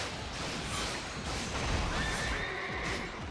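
Horse neighing in the Samurai Warriors 4 Empires battle game, a loud whinny layered over dense, continuous combat noise with steady clashing and crowd roar throughout.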